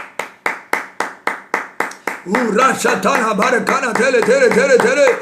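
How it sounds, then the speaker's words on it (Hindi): A church congregation claps hands, beginning with about ten sharp, evenly spaced claps and then swelling into dense, loud clapping mixed with singing or shouting voices. "ताली बजाइए।"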